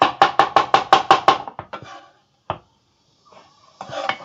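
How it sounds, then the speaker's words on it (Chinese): A cleaver chops scallions on a board in a fast burst of about eight sharp, even strikes, followed by a few looser knocks and a pause before more light tapping, all close and with no talking. "剁一点葱末"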